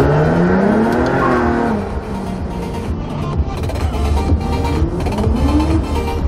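Sports car engines revving loudly nearby at a gathering of supercars such as a McLaren 600LT, Audi RS5 ABT, BMW M4, AMG GT and Nissan GT-R at Lake Balaton, with rising and falling pitch sweeps over a steady rumble.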